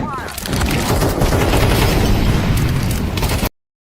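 Incendiary fire grenade thrown and burning in Counter-Strike (CS:GO 2) multiplayer, a loud, dense continuous roar of crackling fire and blast noise filling the clip for several seconds before cutting off abruptly.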